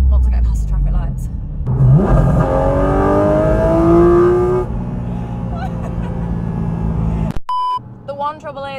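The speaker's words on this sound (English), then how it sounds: "To give you guys some sense of what it actually sounds like from the driver's cockpit" Porsche 718 Cayman GT4 RS accelerating on public roads, heard from inside the cockpit: a loud rising engine wail climbing through the gears with shifts, then settling into a lower rumble, a brief beep near the end.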